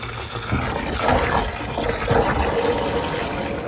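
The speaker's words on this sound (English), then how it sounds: "So this process of putting water in here is when the water goes through here, goes to the system." Water is poured into a Minicle micro bubble shower system, a steady close gushing and filling sound with no talk, running continuously with slight swells in flow.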